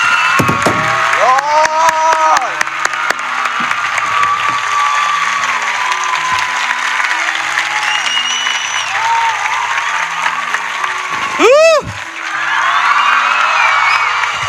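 A church congregation breaks into loud, sustained applause mixed with cheers and a rising whoop, backed by soft sustained keyboard tones.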